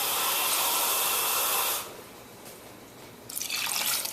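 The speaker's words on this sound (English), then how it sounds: "I'm going to be adding some water now. So in goes 2 cups." Two cups of water pour into a heated cooking pot for a coconut shrimp bisque, a loud, steady rushing hiss that drops away briefly, then surges back in a second pour.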